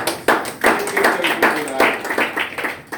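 Scattered applause from the audience at the official launch of an association: sparse, uneven claps and taps land irregularly over a few seconds while a voice talks over them.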